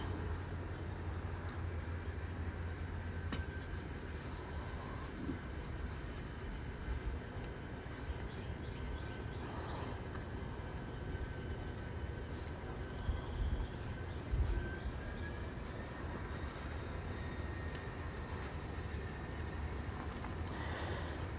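A steady low rumble and whir of a small N scale model train running continuously on a layout, with faint high whines and clicks, fairly quiet and without voices.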